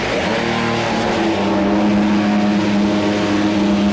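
A Formula 1 car engine running loud and close in the pit lane, a dense sustained roar with a steady idle whose pitch climbs slightly early on, continuing without voices.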